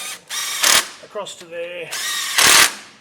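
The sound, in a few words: power tool tightening bolts on a 4WD kit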